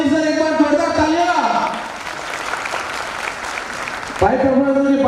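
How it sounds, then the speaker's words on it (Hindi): Applause at a Modicare recognition program in Jaipur, mixed with music and crowd noise, swelling then easing through the middle before music returns loudly near the end. "एक बार जोरदार तालियां।"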